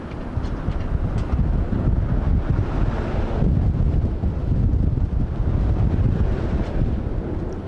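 Strong wind buffets the microphone outdoors in loud, continuous low gusts, roaring without pause and with no voices.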